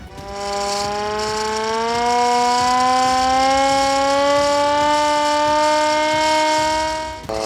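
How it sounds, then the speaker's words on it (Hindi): A loud high-alert warning siren in Lahore during heavy rain and flooding winds up, its wail climbing in pitch and holding a sustained howl before cutting off. "यहाँ बगैर किसी बिजली के जो एक सायरन बजाया जाता है हाई अलर्ट के लिए"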